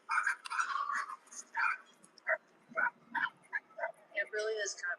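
Dogs bark, yip and whine in a rapid string of close, sharp bursts with brief gaps between them, the yaps running on for several seconds.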